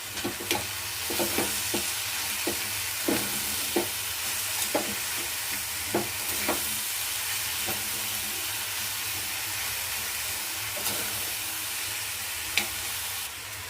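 A field bean usali mixture stirred in a pan over a continuous sizzling hiss, with irregular spoon taps and scrapes against the pan scattered throughout.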